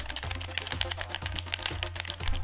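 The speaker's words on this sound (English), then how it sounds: "quiet down the typing, please?" Rapid typing on a computer keyboard: a dense, steady run of light clicks, close and fairly loud, over a low rhythmic thumping in the background.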